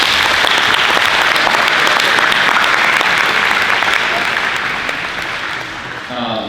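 Audience at a high school senior signature event giving a sustained round of applause for coaches, dense loud clapping from a large crowd that slowly fades toward the end, with a voice starting to speak at the close.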